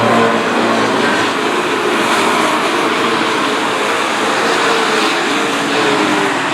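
Race cars at Stafford Speedway on a kids' night race, a loud, steady roar of several engines sweeping through turn four, with broadband noise that builds and holds throughout and no talk.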